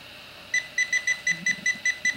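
Gold Digger land and sea pinpointer metal detector beeping in a quick, evenly spaced series of about eight short high beeps, moderately quiet.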